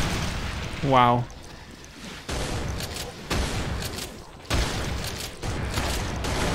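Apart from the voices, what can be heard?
rocket launcher explosions in Brutal Doom video game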